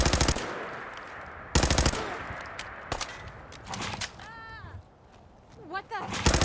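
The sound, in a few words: gunfire shooting at player in video game Fallout 4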